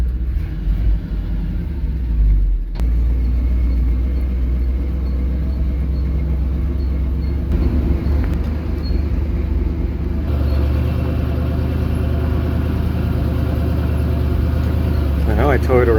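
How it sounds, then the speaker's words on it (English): The heavy engine of a 1959 GMC 150 pickup truck rumbles low and steady, with creaks and clunks as it rolls slowly downhill in gear, continuous and close. "going to put it in gear and use that as the brakes to go down the hill"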